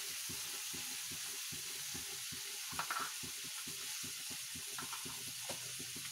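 Crab being stirred into melted butter in a pan, a steady close sizzle and frying hiss with scraping stir strokes throughout, no talking.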